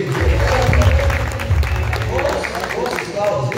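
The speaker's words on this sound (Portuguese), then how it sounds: "a salva de palmas aqui para o Felipe" Audience applause at a leadership training seminar in Brazil, a close, steady burst of clapping that runs through the clip with talk over it.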